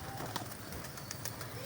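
A pet pigeon, a female with ring number 35 kept by a Pakistani pigeon fancier, coos softly in a few brief low calls against steady background noise, with no one speaking.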